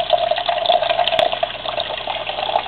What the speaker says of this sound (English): So, you can fill it up with normal temperature water.